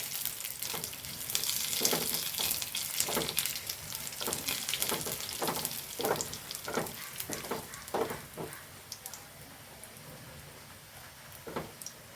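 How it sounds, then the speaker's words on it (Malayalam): Dried red chilli and curry leaves crackling and sizzling in hot oil with onion, a steady fry broken by sharp sputters and pops, close and moderately loud, with no talk. "ഇനി ഞാൻ ഇതിലേക്ക് ഒരു വറ്റൽമുളക് മുറിച്ചിട്ട് കൊടുക്കുന്നുണ്ട് പിന്നെ ഒരു രണ്ട് കരുവേപ്പില ഇട്ട് കൊടുക്കുന്നുണ്ട് ഇതും കൂടെ ഒന്ന് മൂപ്പിക്കട്ടെ"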